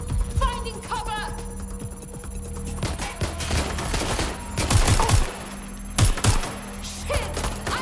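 Gunfire in Watch Dogs Legion sounds as rapid bursts of close, loud shots and automatic fusillades. Shouted voices and game sounds are mixed in, and the firing clusters toward the middle and end.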